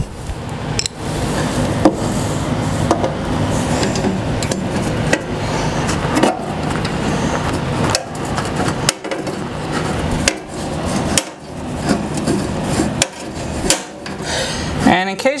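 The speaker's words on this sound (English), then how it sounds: "so I'm going to use a wrench" Metal rasping and ratcheting while a wrench turns an 8mm bolt during assembly of a Ridgid R4512 table saw, loud and close, in steady strokes broken by short pauses and clanks.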